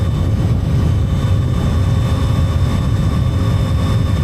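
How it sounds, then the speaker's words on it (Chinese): Zontes 703RR three-cylinder motorcycle engine and exhaust at speed, a loud steady low drone with a humming tonal whine and constant rushing noise, no voices. "这个车3缸那种声浪啊，绅士的这发动机，不管是排气啊，还有发动机声音是比较大的"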